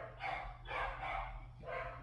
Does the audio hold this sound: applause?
no